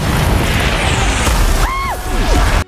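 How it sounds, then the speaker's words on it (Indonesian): Cannons firing in a film about the siege of Constantinople: loud, close booming blasts over a dense rumbling din, with brief tonal ringing after one shot and an abrupt cut at the end. "Maka, meriam-meriam itu pun ditembakkan dan membuat kekacauan benar-benar terjadi di Konstantinopel."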